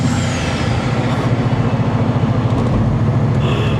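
A Bugatti Veyron with its roof open rumbles steadily with a deep pulsing engine note and rushing air intake, close and continuous, with a faint whine fading away early.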